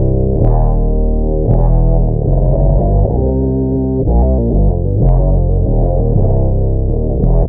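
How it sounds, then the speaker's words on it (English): A micro synth runs through a Mobius modulation effect and a filter, giving sustained, distorted, chorus-laden tones that shift pitch in a slow pattern, with sharp attacks every second or two. "this micro synth here, which I keep connected to the Mobius modulation from Steinman, and I use the filter to filter the sound."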